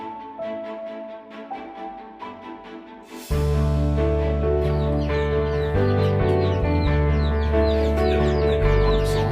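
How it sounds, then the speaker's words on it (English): Chickens cluck and murmur close by, a flock of fowl chattering over a constant droning hum, with no one speaking. "Ah, chickens!"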